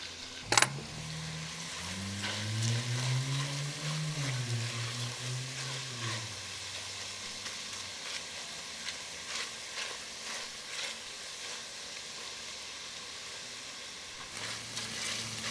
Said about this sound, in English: And then you just want to saute this until it's translucent.